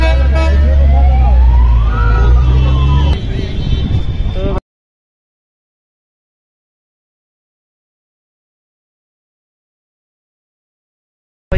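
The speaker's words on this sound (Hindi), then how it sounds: "कितनी ज़्यादा यहाँ पर गाड़ी चलें, सिर्फ हारन हारन की आवाज़ आ रही है" Outdoors in heavy traffic, a rumbling roadway is pierced by loud wavering horn blasts and a siren-like tone, close and continuous for about four seconds before cutting to silence.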